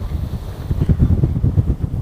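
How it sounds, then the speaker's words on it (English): Strong outdoor wind buffeting a microphone in short gusty bursts during a metal detecting session with a Minelab Manticore over mineralized ground, loud low rumbling with no talk. "Fairly windy out here, so I hope you can hear everything that's going on."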